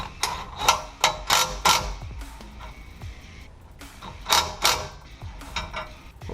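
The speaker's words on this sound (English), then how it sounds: "I do like using a breaker bar." Breaker bar turning a bolt under a 2003 Chevrolet Tahoe Z-71 during transfer case work, giving a series of short ratcheting clicks and metallic creaks in bursts, close and fairly loud, with no talking.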